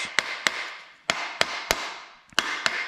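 A hammer strikes metal in about eight sharp, ringing taps at an uneven pace, close by, with short pauses between blows.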